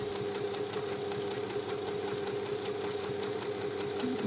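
A sewing machine runs steadily, stitching a quarter-inch seam along a narrow strip of fabric for a small key fob, its needle clattering in a fast, even rhythm close by, with no talking.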